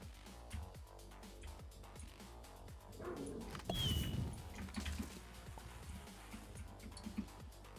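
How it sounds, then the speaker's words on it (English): A dog barks and yips in short, sharp bursts several times, fairly close but not loud, with a louder cluster partway through, while someone speaks over it and keyboard typing clicks in the background. "God damn, dog, shut the fuck up."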